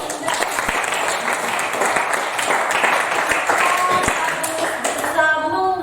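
A classroom group applauds during a teacher's coaching session, dense continuous clapping at fairly loud level with some voices mixed in beneath it.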